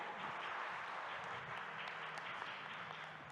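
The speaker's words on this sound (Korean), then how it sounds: "여러분 진행에 수고해주신 좌장님께도 다시 한번 큰 박수 부탁드립니다" An audience applauds at the close of a conference session, a soft, distant wash of many hands clapping steadily throughout.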